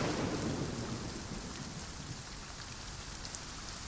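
A thunderstorm: a low rolling rumble of thunder fades over the first couple of seconds while steady rain hisses on surfaces throughout.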